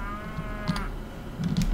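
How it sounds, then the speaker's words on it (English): Single drawn-out cow moo in the video game The Normal Elevator, a low lowing call under a fading tone, followed by faint clicks and rustle. "This is a cow."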